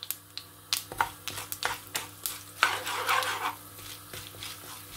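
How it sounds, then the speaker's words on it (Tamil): Urad dal spluttering in hot oil in a pan while making carrot sundal, giving a string of sharp pops and crackles with a brief denser burst of sizzling midway, close and fairly quiet. "உளுந்து பொரிய துவங்கிட்டது."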